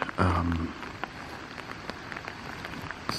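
Rain starting at 4 a.m. on a hammock camp beside Lake Superior: steady fine patter with scattered sharper drops close by, following a brief louder rustle near the start, with no voices.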